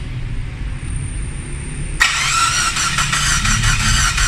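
Gasoline car engine starting: quiet low rumble, then the engine catches abruptly and settles into a loud, steady idle with a whining tone, close up and without talk.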